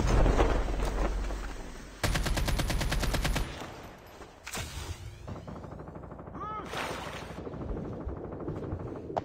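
Call of Duty Mobile battle royale gunfire: a loud, heavy stream of automatic fire, cut by a gap, then a sharply rhythmic rapid burst, followed by quieter scattered shots and game effects.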